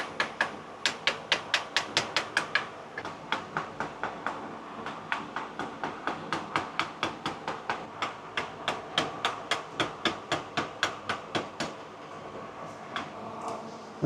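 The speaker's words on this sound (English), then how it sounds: "I need some chiseling tools here." A chisel strikes wood while carving a wooden cupcake in a long series of sharp, regular taps. The taps are close and evenly spaced, slow at first and then steadier, and fade out near the end with no talking.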